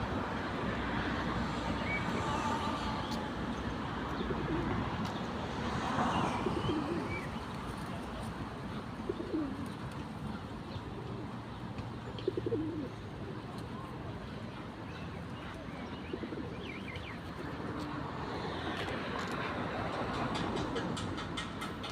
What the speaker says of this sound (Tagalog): Yan, maraming kalapati.